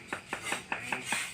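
Light wooden rattling of Thai fortune sticks (siam si) shaken in a cylinder, in quick bursts, about six shakes in a steady rhythm, close and fairly soft with no talking.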